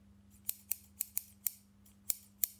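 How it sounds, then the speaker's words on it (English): A pair of scissors is snapped shut again and again as a makeshift instrument, giving about eight sharp, crisp metallic clicks in an uneven rhythm, close and loud against a quiet room. "Let me give the people at home just a sample of my scissors playing."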